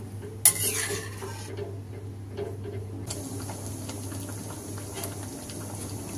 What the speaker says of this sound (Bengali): দিয়ে আমরা ডালটা ভালো করে ফুটিয়ে নেব।